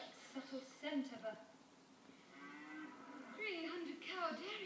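Cows lowing on a 300-cow dairy farm in a commercial, several drawn-out moos at close range, rising and falling in pitch, coming after a stretch of speech and overlapping with it.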